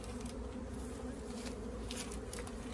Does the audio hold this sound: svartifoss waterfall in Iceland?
no